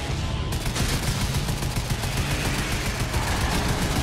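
Vehicle-mounted weapons fire in a Twisted Metal car combat battle as a dense, continuous burst of rapid gunfire, loud and close, hammering on without pause.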